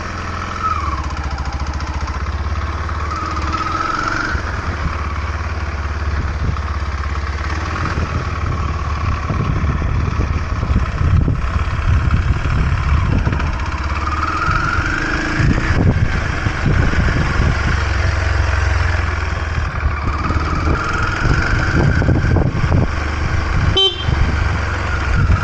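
Kawasaki KLX 230 motorcycle engine runs loud and close on a ride, a steady low drone that rises in pitch several times as the revs climb and shifts, with a brief horn-like toot near the end.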